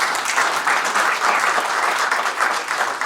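An audience in a Chicago theater-district venue gives a sustained round of applause, even and continuous clapping at moderate volume that holds steady for about three seconds with no talk over it.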